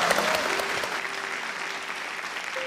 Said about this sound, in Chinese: 所以让我们给他一点掌声好不好